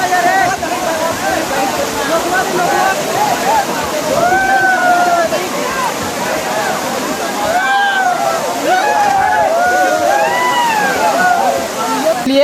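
Kakolat waterfall crowded with visitors, a constant rushing roar of falling water beneath a busy murmur of many people's voices and calls nearby.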